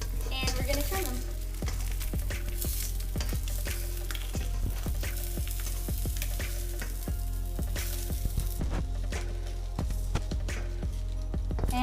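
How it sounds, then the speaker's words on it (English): Pieces of a Danish stjerneskud sandwich sizzle steadily as they fry in oil, a continuous crackling hiss punctuated by frequent sharp pops and occasional utensil clicks, close and moderately loud. "And let that sizzle away"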